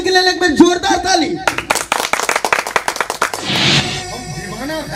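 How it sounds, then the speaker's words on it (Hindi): An audience breaks into a burst of quick, rhythmic clapping for a Maithili folk naach dance troupe's performance, loud and close, framed by music and a voice before and after. "असगरुआ नाच कंपनी के लेल एक बार जोरदार ताली।"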